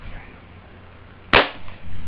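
An airsoft gun fired at a new winter coat: a single sharp close snap standing out from quiet room background, followed by faint rustle.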